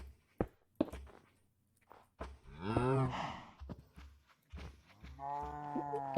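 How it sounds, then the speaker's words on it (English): Cows in the Minecraft video game moo in a long drawn-out call midway, another lowing moo follows near the end, and light footsteps and clicks from the game fill the gaps. "Oh, got cows all over the place."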